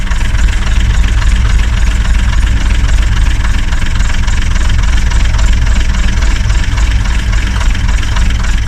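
An old bus engine runs loud and steady as it warms toward operating temperature, a deep continuous idling rumble with no breaks.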